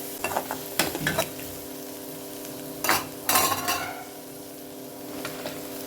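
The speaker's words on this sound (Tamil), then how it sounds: "பாருங்கள், பெரிய வெங்காயம் நல்லா வதங்கிட்டு" Onions frying in a pan, a steady low sizzle broken by a few sharp clinks and scrapes of a spoon stirring against metal.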